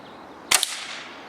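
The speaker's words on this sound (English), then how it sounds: "Second pellet in, single shot." A Beeman Grizzly X2 dual-caliber air rifle fires a single pellet, one sharp, loud crack with a quick secondary snap and a short fading ring-out against a quiet background.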